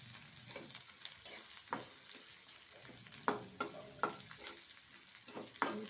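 Onion, peanuts and garlic fry in a pan for a leftover-chapati poha, making a continuous bright sizzle. Light scrapes and taps of a spoon break in now and then, close and steady.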